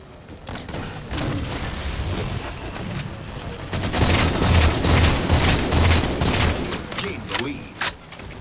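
Explosions and gunfire burst through a Halo 4 multiplayer match on a Crimson map pack level as thrown grenades go off, heavy thumping booms under dense battle noise while a voice talks over the action.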